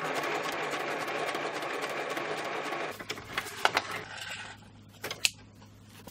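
Sewing machine stitching through a paper collage: a fast, steady mechanical whirr for about three seconds, then softer, with scattered clicks and taps as the work is repositioned, heard close by with no talking.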